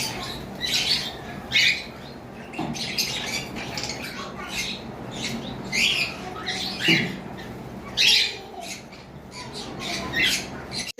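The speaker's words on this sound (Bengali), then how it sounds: "এবার আসি এখানে গ্রিন ফিশার অপালাইন রয়েছে একটা পেয়ার" A bonded pair of green Fischer opaline lovebirds in a cage gives repeated sharp squawks and chirps in irregular bursts, close and fairly loud over a rustling background.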